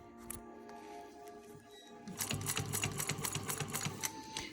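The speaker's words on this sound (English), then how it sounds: "Now, I like sewing a zipper on with it being closed as much as I can." Sewing machine stitching a zipper into a fabric bag, starting after a quiet pause into a steady rapid chatter of needle strokes, close and alone.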